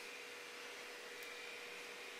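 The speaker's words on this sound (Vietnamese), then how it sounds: "Tức cái quạt đi, chúng ta sẽ không cần quạt nữa." An electric fan runs close by with a constant steady whir and a faint high tone, unbroken and with no voices.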